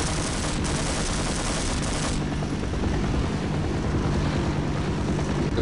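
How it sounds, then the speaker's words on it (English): A helicopter in the video game Half-Life gives a loud, steady, dense rotor roar and rattle that fills the whole stretch, with no talking. "There's a helicopter."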